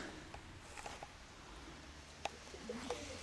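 Pigeons coo faintly at a distance in a village setting, with a few soft calls scattered over steady outdoor background noise.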